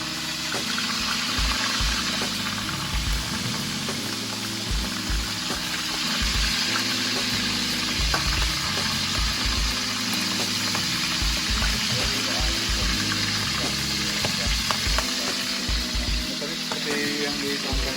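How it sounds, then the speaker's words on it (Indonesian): Salted rice-field frogs fry in a pan with a steady, dense sizzle and crackle over a constant background hum, loud and continuous throughout. "Sekarang kita mau goreng."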